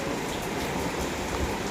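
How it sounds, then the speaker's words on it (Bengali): Heavy rain pours down steadily outdoors, making a dense, unbroken roar of broadband noise that stays loud and constant throughout. "এত জোরে বৃষ্টি যে আমি গিয়ে তালাই খুলতে পারবো না"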